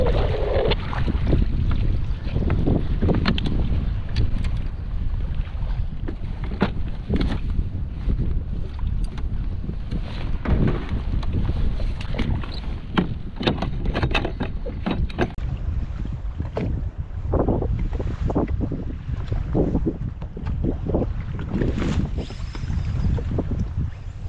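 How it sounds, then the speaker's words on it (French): Gusty wind buffets the microphone in heavy low rumbles, with water lapping around a fishing kayak; no voices. "Là, il y a un peu plus de vent, ça s'est levé."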